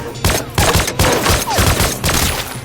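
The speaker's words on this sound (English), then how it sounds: "the mysterious person pulled out a gun and began shooting blindly." A gun fires blindly in a rapid string of about seven loud, close shots in quick succession, each a sharp crack.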